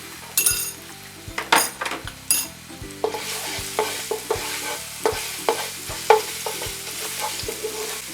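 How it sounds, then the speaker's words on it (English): Garlic frying in hot oil in a pan while cooking Thai spicy chicken fried rice, a steady sizzle broken by repeated clinks and scrapes of a utensil stirring against the pan. "My oil is ready. I'm going to put my garlic in there."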